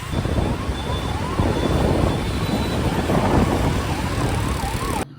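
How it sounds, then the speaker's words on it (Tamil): A wailing ambulance siren rises and falls at a moderate distance over a steady roar of traffic and engines. "இந்த ஆம்புலன்ஸ் நாங்கள் ரொம்ப நேரமாக ஃபாலோ பண்ணுது."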